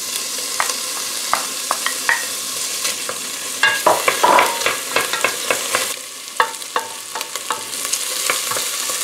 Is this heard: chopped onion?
yes